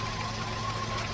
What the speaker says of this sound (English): The engine is still running smooth